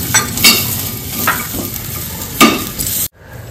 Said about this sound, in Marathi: खजूर भाजून घेत आहे